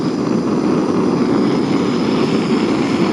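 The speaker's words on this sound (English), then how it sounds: "And so I'm going to get the jet boil going." A Jetboil camping stove burner roars steadily and evenly at close range, a constant breathy rush with no voices, at a backpacking camp at Point Reyes.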